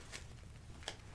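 A deck of cards is cut in a quick, faint papery handling with a couple of soft riffling flicks over a low background hiss, all within about a second.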